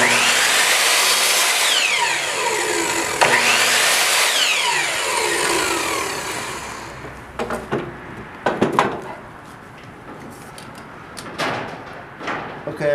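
A power saw cuts a notch into a wooden piece for a pull-behind camper build, whining loudly and continuously for about seven seconds with rising and falling pitch sweeps, then dropping to scattered knocks and handling clatter.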